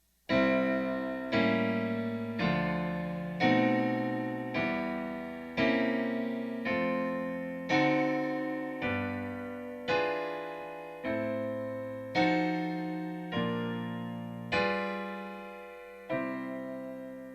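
A chain of secondary dominant chords voiced as dominant seventh flat nine chords, struck one after another at a steady, even pace, each sustained and fading, played cleanly with no talking.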